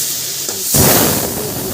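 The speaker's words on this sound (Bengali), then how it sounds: "আরও যতগুলো বেশি কিছু শাক দিচ্ছি আর ভাজছি" Pumpkin greens and potato hit hot oil in a pan, setting off a loud sudden hiss of steam and sizzle that stays strong and close for the rest of the short moment.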